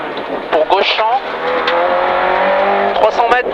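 A Renault Clio Ragnotti N3 rally car on a rally special stage, its engine holding a loud, steady high-revving drone with sharp gear-change blips near the start and end, while a co-driver's voice reads pace notes over it.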